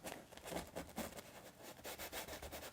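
A paintbrush scrubs paint onto canvas for a desert landscape painting, making faint, soft, rhythmic scratchy rubbing strokes close by.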